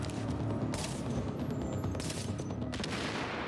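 Heavy gunfire and blasts in The Division at a napalm production site, dense rattling bursts across the whole stretch with a thrown grenade's boom among them, loud and close.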